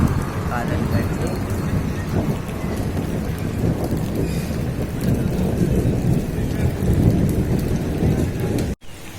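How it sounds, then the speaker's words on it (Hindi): Heavy rain pours steadily with thunder rumbling through a calm, windless storm, a continuous loud wash of rainfall with low rolling thunder beneath and no talking. "गरज चमक के साथ जो है ना बारिश शुरू हो गई है"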